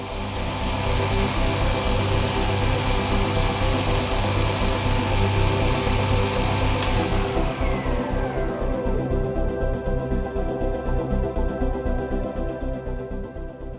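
Homemade free-energy generator engine running steadily and loudly, a dense mechanical drone that shifts into a quicker, pulsing rhythm partway through, with no talking.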